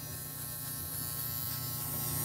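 A cordless hair clipper buzzes steadily at close range during a fade haircut, a continuous motor drone with a strong low hum and no break or change in pitch.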